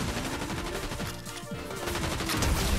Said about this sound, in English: I'm gonna get him with my sick shotgun